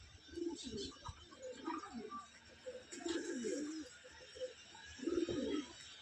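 Pigeons coo repeatedly in soft, low throaty bursts, three or four distinct phrases over steady background noise, with a faint voice and some chirps in the distance.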